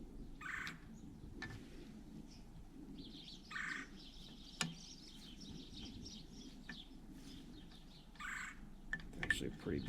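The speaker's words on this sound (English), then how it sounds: "Alright, so we got birds talking now" Birds call and chirp outdoors on a fine day, with a few sharper caws and brief tweets scattered over steady low background rumble, moderately distant, with no talking.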